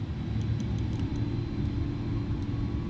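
Jet engines of an Airbus A310 in a flight simulator game spooling up, a steady low rumbling roar with a faint thin whine on top, constant and unbroken throughout.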